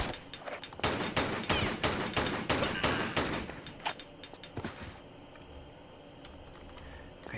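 Rapid bursts of gunfire aimed at an enemy in Tomb Raider III, in the Area 51 level: a dense run of loud, closely spaced shots for about five seconds, then a few scattered shots and a quieter mechanical hum.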